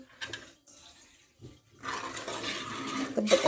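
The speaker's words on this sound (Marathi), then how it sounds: "तांदळाला जेवढं पाणी लागते ना तेवढं टाकायचं." Water is poured onto rice for Sangli-style pavta bhat. Soft handling sounds and a short pause lead into a steady, close splashing pour that fills the second half.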